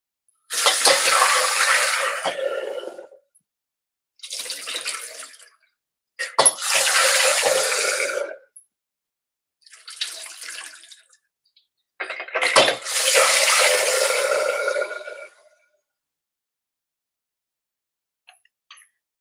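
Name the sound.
water being poured into a pressure cooker with chickpeas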